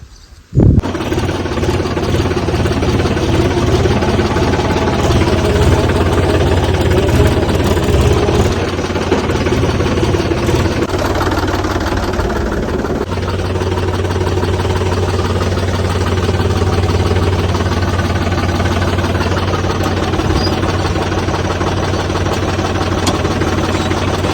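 A farm tractor sits idling on a sugarcane farm while a cultivator is being hitched to it. Its engine gives a loud, continuous low rumble that holds steady throughout, with a slight shift in tone partway through.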